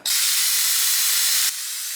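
A pneumatic brake bleeder on a caliper bleeder nipple gives a loud, steady air hiss that drops slightly in level partway through and then continues.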